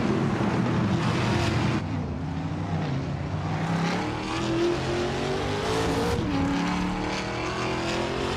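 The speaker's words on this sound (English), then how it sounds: "the race kicks off at Oran Park, and leading the pack is the bot Lazy Towner in a 2021 Chevrolet Camaro" Race cars roar off the start at Oran Park in a racing video game, with a 2021 Chevrolet Camaro among the pack; a dense, steady engine drone with rising revs and shifting pitches continues throughout, loud and close, with no talking.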